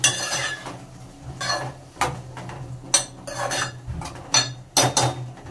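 Chopped tomatoes are stirred into egg curry in a metal pan, a spoon scraping and clinking against the pan in several sharp, irregular strikes close by, with a soft sizzle underneath.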